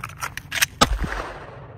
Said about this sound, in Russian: Сделал выстрел.